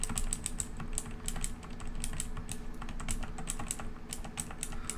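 Rapid, steady clicking and typing on a computer keyboard, close and continuous with sharp key taps throughout and no voices.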